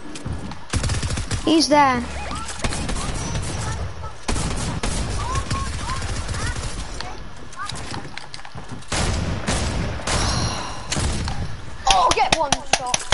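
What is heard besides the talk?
drum shotgun gunfire in the video game Fortnite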